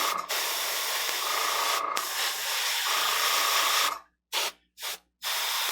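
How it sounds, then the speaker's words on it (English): Airbrush spray onto a paper towel while priming a Stormcast miniature figure: a steady close hiss of about four seconds with brief breaks, then three short bursts separated by silence. "just get any of the excess spray out of there"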